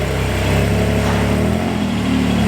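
A Porsche GT4 with a new Milltek exhaust revs loudly and steadily, its deep, throaty low rumble rising and falling slightly, close up with no talking.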